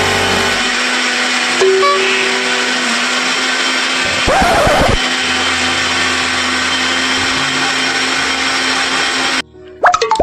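A mixer grinder blends an onion-tomato fry with roti in a loud, steady motor whine that holds for most of the clip, with brief pulses and clunks before it cuts out near the end.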